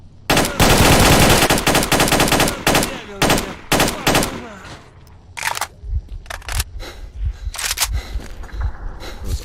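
AK rifle gunfire in the video game S.T.A.L.K.E.R.: Shadow of Chernobyl, loud rapid automatic bursts crowding the first half, then sparser short volleys and single shots.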